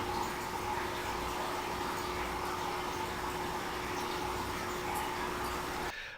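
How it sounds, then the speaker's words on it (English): Aquarium pumps run as a steady, continuous hum and hiss that stays even throughout, with a faint watery wash underneath before cutting off abruptly near the end. "you hear the aquariums running"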